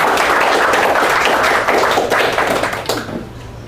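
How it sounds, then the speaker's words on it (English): An audience at a presentation on agile project management applauds, a dense burst of clapping hands that holds steady, then thins out and fades near the end. "Let's give Saurabh a round of applause"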